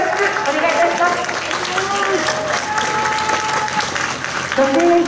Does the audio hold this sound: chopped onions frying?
no